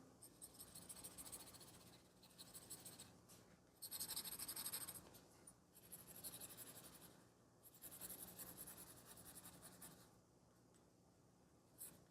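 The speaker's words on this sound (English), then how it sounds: "Now with the 2B, my regular graphite pencil, add a bit more shading here." A 2B graphite pencil shading on paper, soft scratchy strokes in bursts of a second or two separated by short pauses, close and quiet with no talking.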